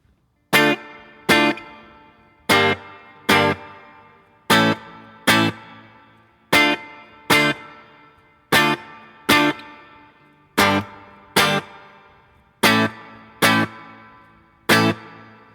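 An acoustic guitar plays a song's chords with a choppy strumming pattern of short, sharply muted stroke pairs in a steady, even rhythm, close and clear with no voices.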